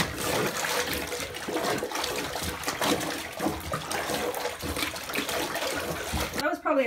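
Cloth diapers are agitated by hand in a bucket of water, with continuous sloshing and splashing that churns at close range, ending in a brief swirl of water.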